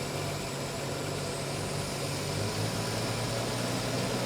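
Engine of a 1973 Triumph TR6 idling during a tune-up, a steady low rumble with a faint even pulse that holds constant throughout, no voices.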